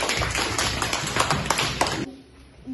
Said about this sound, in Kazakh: Шапалақ ұрамыз гүл тобына.